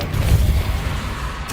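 A Confringo blasting spell detonates in Hogwarts Legacy gameplay, a loud, deep rumbling explosion that swells and holds for over a second before a sharp crackle at the end.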